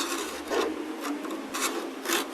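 A rasp works a wooden divider clamped in a vise, roughing the corners off. Steady, gritty rasping strokes repeat in an uneven rhythm, close up with no talk.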